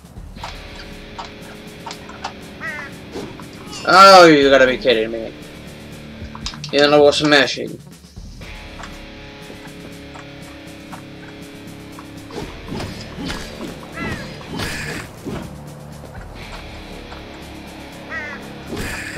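Cawing birds sound in the video game Slain!, loud harsh calls amid game crashes and smashes, with a player talking over them and occasional clicks from an old controller.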